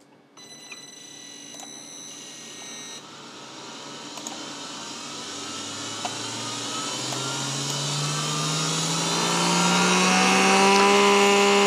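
A sensorless brushless DC motor with delta winding ramps up toward 12,000 RPM, its high whine and harmonics climbing steadily in pitch and growing louder over about twelve seconds, close and alone without speech.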